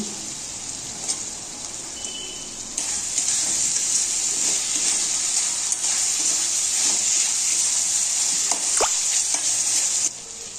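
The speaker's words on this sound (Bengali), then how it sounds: "দিয়ে দিচ্ছি ক্যাপসিকাম কুচি।" Chopped capsicum sizzles in a pan of spiced masala and water for chicken korma, a steady loud hiss that swells midway and continues alone with occasional clinks.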